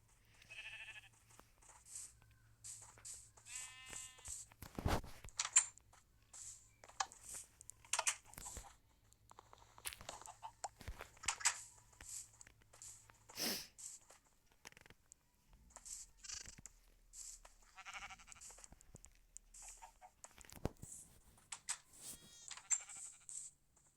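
Minecraft sheep bleat repeatedly in short wavering cries, spaced irregularly among clicks and game noises, fairly close and clear against an otherwise quiet background, with no talking.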